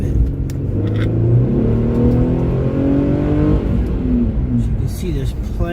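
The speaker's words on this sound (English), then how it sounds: "So you hear the engine a little bit." An Infiniti Q50 AWD engine hums and climbs through gears while driving, rising tones settling as it shifts, loud from inside the cabin with someone speaking over it.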